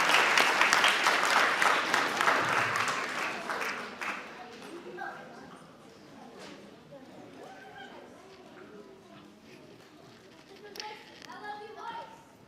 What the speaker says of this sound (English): Can we give another round of applause to Ms. Lopresti, please?